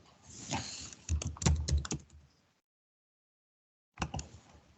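Typing on a computer keyboard while filling in an online tourist visa application form: close, rapid clusters of key clicks, a silent pause, then another short burst.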